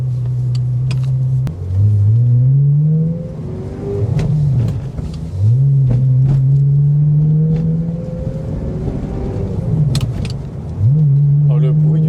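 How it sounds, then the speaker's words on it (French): An engine of a Ferrari 360 Modena with a gated manual gearbox rises and falls through several gear changes, with sharp metallic clicks at each shift; a voice talks over the running car. "le bruit du craquement de la grille c'est incroyable"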